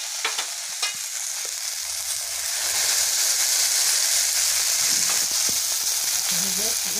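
Oil hitting a hot pan on a wood-fired clay stove, a loud rushing sizzle that swells and stays dense, with faint clinks and a brief voice in the background.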